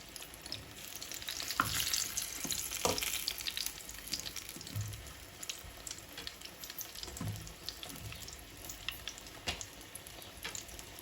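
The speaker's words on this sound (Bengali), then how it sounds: "বেগুনগুলো আমার ভাজা হয়ে গেছে আমি এখন তেল থেকে উঠায় ফেলবো" Eggplant pieces frying in hot oil give a steady, fairly quiet sizzling hiss with a few sharper pops and clinks from the pan, continuing throughout with no talking.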